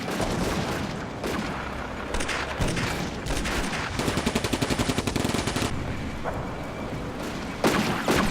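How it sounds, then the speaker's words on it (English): Sustained machine gun fire in the World War II strategy game Combat Mission: Afrika Korps, steady rattling bursts mixed with heavier booms under a dense battle din, loud and continuous throughout. "He's actually trying to close the distance using the machine gun"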